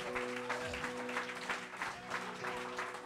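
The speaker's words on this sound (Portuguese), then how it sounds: "Aplauda o Senhor!" A church congregation applauding during an evangelical Portuguese sermon, sustained clapping heard fairly faintly beneath a sustained musical tone and some voices.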